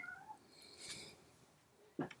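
A pet kitten meows somewhere nearby but out of sight: a thin, high cry early on and another short, sharper call near the end, with a quiet indoor room in between.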